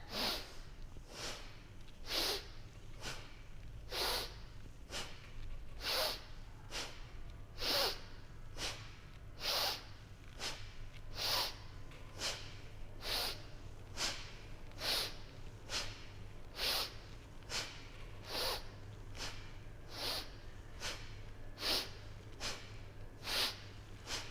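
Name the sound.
breathing exercise inhalations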